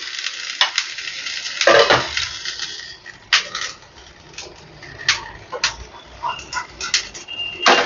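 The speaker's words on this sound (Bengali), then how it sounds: "এবার একটু উল্টে পাল্টে এটাকে ভেজে নিতে হবে।" Flattened dough made from wheat flour and semolina frying in a pan as it is turned over, with bursts of sizzling, scraping and stirring noises across the whole span and no talk.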